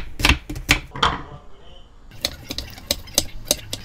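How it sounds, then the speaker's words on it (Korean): A knife chops potatoes, purple onion and carrots into coarse chunks for spicy braised chicken. Sharp, close knocks on a cutting board come in a quick burst, pause briefly, then return in a faster, steadier run. "이제 재료를 다 썰었어"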